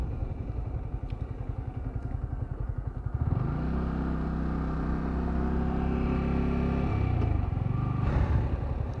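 Motorcycle riding along a road near Rangunia, Chittagong, the engine droning steadily close-up with rumble and wind, its tone rising and settling as it accelerates midway.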